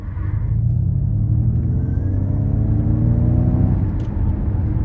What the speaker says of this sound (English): Crazy acceleration, absolutely crazy acceleration.